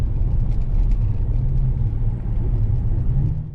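Steady low road rumble and whir from a car with an off-center steering wheel cruising along, close and continuous, no talking.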